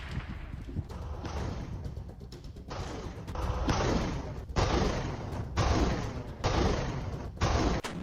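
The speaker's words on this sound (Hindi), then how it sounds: "टैंकों से बरसते गोले" Tank shelling and gunfire in the Russia–Ukraine war, heard as a steady barrage of repeated loud booming blasts, with heavy impacts falling about every second over continuous rumbling noise.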